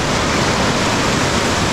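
Rough sea surf at a Goa beach makes a dense, loud, steady roar of crashing water that fills the short stretch without a break.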